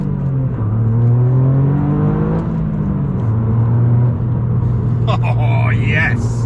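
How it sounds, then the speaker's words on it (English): A Toyota GR Yaris with a modified exhaust pulls away, its engine note climbing through the revs and settling into a steady drone before rising again, loud and close, with a voice briefly over the end. "see what the exhaust sounds like"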